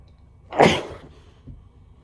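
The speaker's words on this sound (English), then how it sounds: "I just sneezed there." A single sharp, close human sneeze bursts out in an otherwise quiet room, followed by a faint small sound afterward.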